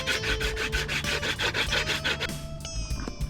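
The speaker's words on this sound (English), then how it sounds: "We'll sand that all the way around, get as smooth as possible." Rhythmic back-and-forth rasping of sandpaper smoothing the rim of a coconut shell bowl, steady strokes close up, easing off near the end.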